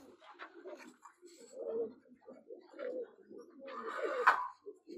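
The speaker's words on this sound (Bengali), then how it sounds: "এই যে শখের বশত গোলা কবুতর, শখের গোলা ডিম পারছে।" Domestic pigeons cooing in a breeder room, soft repeated low coos and murmurs overlapping from several birds, fairly quiet and close, with a brief flutter or scuffle near the end.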